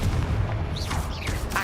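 A Confringo explosion spell cast in Hogwarts Legacy erupts as a dense, booming blast with a rumbling low end and rising magical whooshes, loud and continuous through the short moment.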